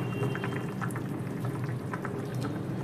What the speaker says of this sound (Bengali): ঝোল খুব টকবক করে ফুটছে